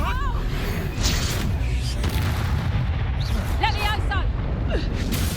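Blasts of an explosive spell in Hogwarts Legacy boom repeatedly under continuous game sound, with short tonal effects and voice-like chirps scattered throughout the loud action mix.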